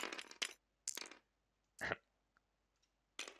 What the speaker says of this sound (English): So I'd pick them up, give them a roll by pressing R